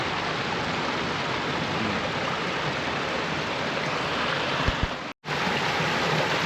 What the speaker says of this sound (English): So here's that waterfall. Check out how water's coming that way and then that way.